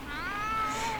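A single drawn-out cat meow from a video game, clear and close, rising then falling over about a second.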